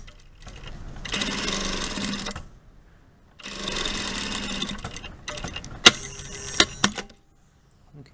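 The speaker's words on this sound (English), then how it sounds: "we're just going to sew across the bottom here" A sewing machine stitches across the bottom of tailored shorts in two steady, fairly loud bursts separated by a pause, followed by a few sharp clicks and clunks of the machine being handled.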